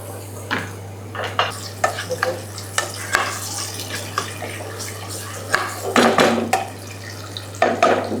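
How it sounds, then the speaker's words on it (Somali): Chopped onion fries in sunflower oil in a pot for a simple lentil soup, with a continuous crackling sizzle and frequent clattering stirs against the pot over a steady low electrical hum. "waxa ku darsanaya marka saliid ku soo shubtay digsiga basashay"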